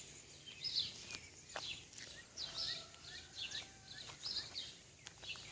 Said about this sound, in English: It is good to hear the birds chirping